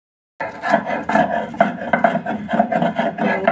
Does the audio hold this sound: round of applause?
no